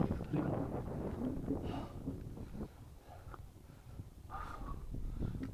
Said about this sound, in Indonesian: masih hujan, masih gerimis,